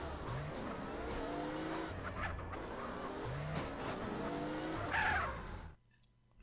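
Car engine driving and revving in GTA San Andreas, steady and loud with tire squeal and skidding sounds, ending abruptly in near silence.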